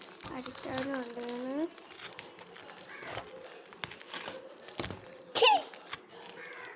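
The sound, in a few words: peeling stickers off a piece of wood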